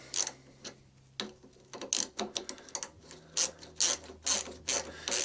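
A ratchet tightens a bolt on a Mountfield 414/416 lawnmower, giving quick bursts of sharp clicking at close range. The bursts repeat in an uneven rhythm with short pauses between strokes.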